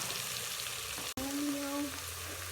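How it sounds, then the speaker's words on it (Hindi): Onion frying in oil with turmeric powder and salt for an aloo gosht curry, a steady close sizzle with a brief stir scrape midway and a short cutoff, no talk. "1 चम्मच हल्दी पाउडर, 1 चम्मच नमक भर के इसको अच्छे से फ्राई कर लेते हैं"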